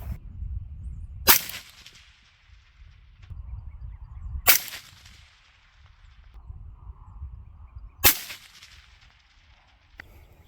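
Three sharp rifle shots from a 22 ARC rifle with an 18-inch Ballistic Advantage barrel fired at 500 yards, each loud crack spaced a few seconds apart with a short decaying tail, no talking between.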